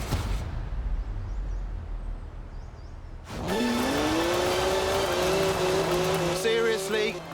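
A BMW 1M in Forza Horizon 4 idles low, then its engine revs hard and climbs as the car pulls away, accompanied by a whining pitch and brief tire noise, with faint speech before it.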